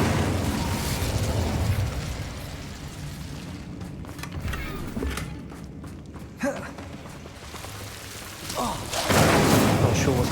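In Hogwarts Legacy the Incendio fire spell bursts with rumbling whooshes and crackling blasts, easing off in the middle and then swelling again into a loud fiery roar at the end, with voices in the game faintly underneath.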